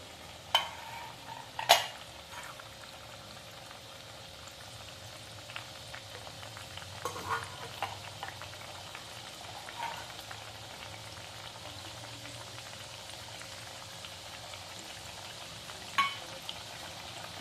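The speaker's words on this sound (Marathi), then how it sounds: "फक्त एक वेळी तीन किंवा चारच चकल्या तेलात टाका म्हणजे कढईत गर्दी नाही होत आणि त्या व्यवस्थित अशा तळल्या जातात" Three or four chakli deep-frying in oil in a wok, a faint, steady bubbling fizz with a few sharp clinks near the start and scattered soft crackles afterward.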